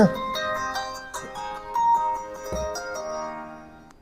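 A bright melodic electronic ringtone plays a tinkling tune with struck notes and a rhythmic pattern, loud at first then fading toward the end.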